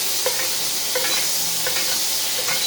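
A baguette toasts in butter in a pan for a French steak sandwich, giving a dense, even hiss of sizzling with faint regular stirring ticks, close and steady with no voices.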